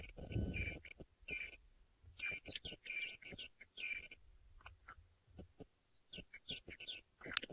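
Birds chirp and call in short repeated bursts against a quiet background at sunrise in an African safari reserve, with faint low croaking of frogs scattered between them.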